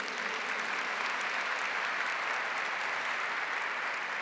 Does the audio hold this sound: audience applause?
yes